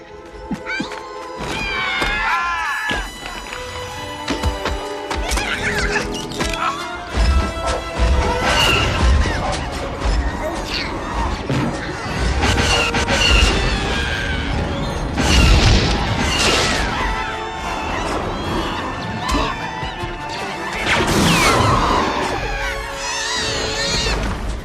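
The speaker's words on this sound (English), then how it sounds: "I like the logs smashing it in the face." Heavy logs crash into an armored walker in a Return of the Jedi forest battle scene, a dense run of smashes, thuds and booms over a busy film soundtrack, loud and continuous throughout.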